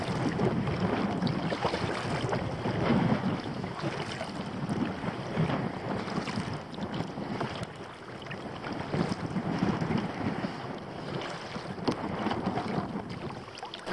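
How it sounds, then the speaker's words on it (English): Strong wind blows steadily into the microphone while a kayak paddles to windward off the dunes at Walney North End, a constant rough roar with water noise and no talking. "This wind in our face."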